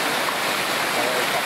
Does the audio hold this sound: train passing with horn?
no